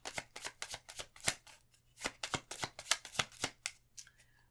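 Tarot cards are shuffled by hand in a quiet room, a close series of quick papery riffles and snaps in uneven bursts, with a short pause midway.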